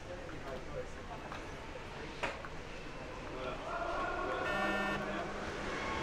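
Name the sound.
buzzer at underwater hockey match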